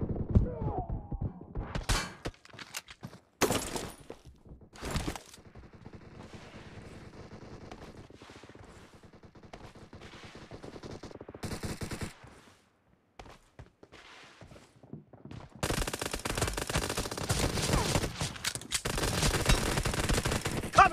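Pistol fire in a video game team deathmatch crackles in sharp, loud bursts and rapid volleys, separated by quieter stretches, with a dense stretch of shooting toward the end.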